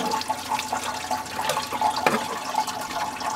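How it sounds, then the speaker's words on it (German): Coolant gushes and splashes out of the opened thermostat housing of a BMW 740 E38, a continuous close liquid pour with small drips and spatters throughout. "Und jetzt läuft uns eine Menge Kühlwasser entgegen."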